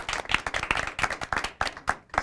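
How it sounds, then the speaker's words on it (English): Clapping from a small TV show audience, with distinct individual claps audible in an uneven rhythm, moderately loud and close, no talking. "Let's give her a huge round of applause."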